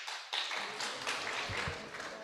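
Audience applause at a club's welcome-back season meeting as the vice president is called up, a broad steady wash of clapping with a few sharper taps, fairly close and continuous throughout.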